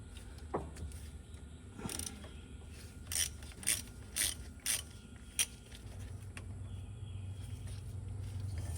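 A ratchet driving an 11 mm socket on a worn-out truck, several quick close clicking bursts spaced out over a few seconds against a quiet shop background.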